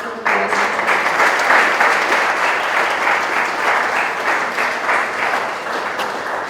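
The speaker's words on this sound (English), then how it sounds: "So, Akharta, just a round of applause." Audience applause at an art awards ceremony, a dense, steady wash of clapping that starts abruptly and holds at a loud, even level throughout.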